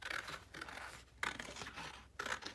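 Scissors snip through a plastic model decal sheet around a wing roundel, a few crisp close cuts in separate bursts with brief pauses between them.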